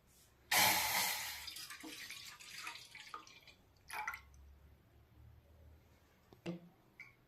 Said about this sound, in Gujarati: હવે આપણે એમાં દૂધ નાખી દઈએ, 1 વાટકો